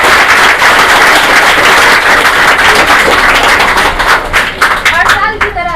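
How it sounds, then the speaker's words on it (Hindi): Students at a school ceremony give guests loud, dense applause that continues throughout at close range. Near the end the clapping thins and voices start to come through. "यहाँ उपस्थित सभी छात्र सभी गेस्टों का जोरदार तालियों से स्वागत करेंगे"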